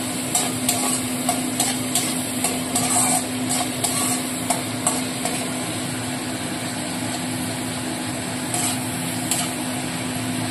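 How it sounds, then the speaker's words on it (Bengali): Onions and tomatoes with a little salt frying in a pan, a steady sizzle with intermittent scraping and clinking of a stirring utensil against the pan, close and continuous, with a constant background hum. "ভালো করে এবার এই পেঁয়াজ আর টমেটোটাকে ভাজা ভাজা করতে হবে।"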